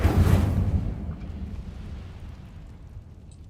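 A fiery Incendio spell bursts out in Hogwarts Legacy, a loud low whoosh-and-boom at the start that rolls off into a rumbling decay over a few seconds, with no talking.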